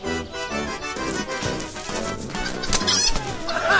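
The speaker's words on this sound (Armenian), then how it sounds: "Fresh ինչ հավեր։" Chickens cluck in a busy, dense mix of sound, the fowl noises blending with music and other background noise.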